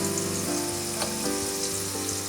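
Half an onion frying in a pan for khuska fried rice, a steady close sizzle with broadband crackle and a few brief stirring knocks, no voices.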